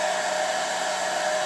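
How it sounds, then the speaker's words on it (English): A hair dryer on low heat blows steadily over an abstract pour painting, a constant close whirring rush with a thin whine, unbroken and alone. "we're going to go ahead and use a hairdryer on low heat."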